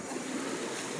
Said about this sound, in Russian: Черное море,